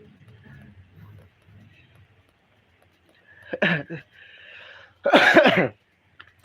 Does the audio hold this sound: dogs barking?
no